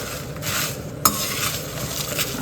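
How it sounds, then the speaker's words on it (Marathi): Spice masala dry-roasting on a low flame, stirred in small batches: a steady soft scraping and rustle runs throughout, with one brief sharp clink of a utensil against the pan partway through. "आता हे मसाले मी थोडे थोडे भाजून घेते मंद आचेवर."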